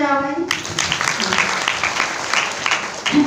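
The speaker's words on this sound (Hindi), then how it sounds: "इनके नाम पे ताली बजाओ भाई" An audience breaks into dense, lively clapping right after a brief voice, and the applause continues evenly to the end.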